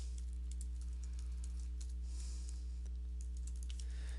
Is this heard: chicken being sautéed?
no